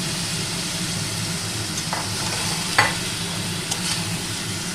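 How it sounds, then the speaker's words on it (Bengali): Boiled potato pieces stirred in a frying pan for a dry potato curry, with a steady close sizzle and a few sharp scraping clicks from the spoon against the pan. "এবার সেদ্ধ করে রাখা আলুর টুকরোগুলো আমি এবার ভালো করে নাড়াচাড়া করে নিই।"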